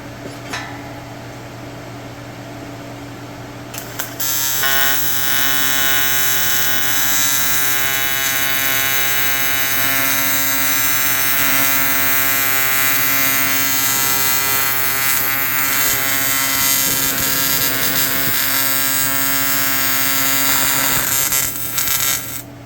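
Aluminum being TIG welded, a loud, steady electrical buzz with a constant harmonic hum that starts after a quieter lead-in and runs close and unbroken for most of the clip, without speech.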